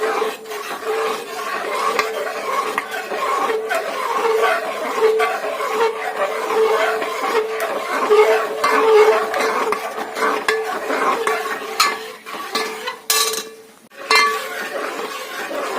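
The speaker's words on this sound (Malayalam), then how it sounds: "ഇനി നമുക്ക് നന്നായിട്ട് ഇളക്കി കൊടുക്കാം" A utensil stirs pineapple jam with cinnamon and cloves in a pan, making steady, close, repetitive scraping and rubbing strokes that continue without pause, with a brief clink near the end.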